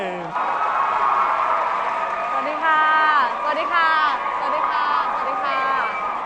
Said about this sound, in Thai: ขอเสียงปรบมือต้อนรับ คุณเอมสาธิดาปิ่นสินชัย